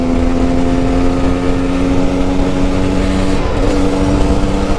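A 2009 KTM 250 EXC dirt bike ridden along, its engine droning steadily and loud up close with a strong constant tone, a brief dip near the end, and wind rush over it.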